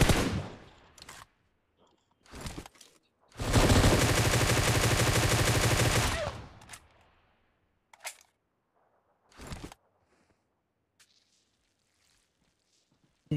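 Gunfire in a BGMI match, including AWM sniper shots: a few sharp isolated cracks spaced apart, plus one long loud burst of rapid automatic fire lasting about three seconds, then more single reports separated by silence.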